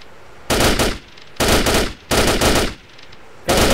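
Bursts of automatic gunfire in a military video game, four loud, close volleys of rapid shots separated by brief pauses, with no talking.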